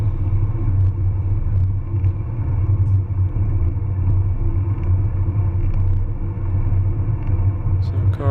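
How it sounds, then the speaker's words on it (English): A steady low rumble of a car passing a cyclist from behind, heard over constant road and wind noise from a moving bicycle. "car coming by."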